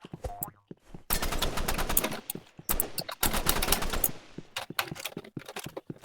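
Rapid gunfire bursts in the hero shooter video game Marvel Rivals, two long sustained volleys of repeated shots separated by short pauses, then scattered single cracks, loud and up front with no talk.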